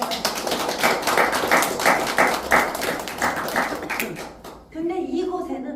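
A class audience at a Korean lyric-writing lecture claps for a few seconds, a steady patter of hands that stops as a voice resumes speaking.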